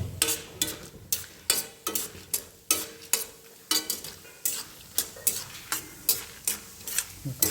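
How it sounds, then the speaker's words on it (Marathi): Roasted split chickpeas are stirred in a dry pan, giving a rapid run of sharp scraping strokes and rattles, close and fairly loud, with no talking over them. "डाळवे पण चांगले भाजून घेते."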